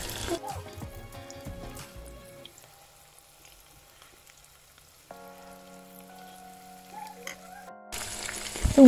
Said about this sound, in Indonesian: Kita goreng seperti biasa.